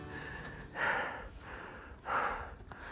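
Heavy, labored breathing from a hiker scrambling up steep rocks on Angels Landing: two loud, rasping breaths close to the ear, separated by quieter panting.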